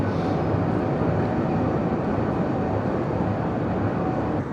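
A train pulling into Larkana railway station at night on the Karachi to Larkana run, a steady loud rumble of wheels and carriages rolling throughout with no voices.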